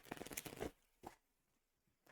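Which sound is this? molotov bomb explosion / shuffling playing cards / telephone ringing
shuffling playing cards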